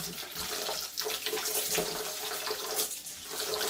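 Rice is washed under running water in a kitchen sink: a steady, close splashing and trickling stream with sloshing surges as the grains are stirred by hand, and no talking.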